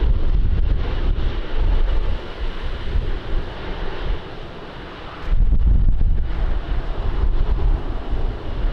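Strong gusty wind buffets the microphone at Lisbon Airport, a loud, continuous rumbling roar that dips briefly in the middle and then surges back, with a faint hint of aircraft noise beneath.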